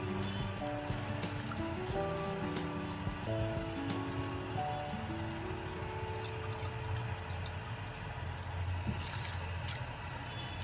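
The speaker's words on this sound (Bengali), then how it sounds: "চালটা ভিজিয়ে রেখেছিলাম সেগুলোকে আমি এবারে জলে ছেড়ে দেব" Soaked rice for vegetable fried rice is tipped into a pot of water. It makes a continuous splashing, pouring wash of water that stays steady throughout, under background music.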